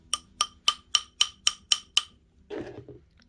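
The back of a pair of pliers taps a coiled wire ring flat: eight sharp, evenly spaced metallic taps, followed by a brief softer shuffle of handling.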